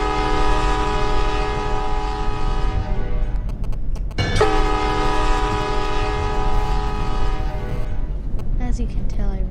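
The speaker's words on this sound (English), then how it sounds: "you can honk your horn as you travel along this newly laid track" Locomotive horn in the Traincraft video game blaring in long sustained chords, cutting out briefly around the middle before sounding again, with a rumbling rail background underneath.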